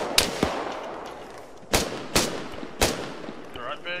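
Gunfire in the video game Arma 3: four sharp, loud shots spaced unevenly across a few seconds, each with a short crackling tail, over a low ambient background.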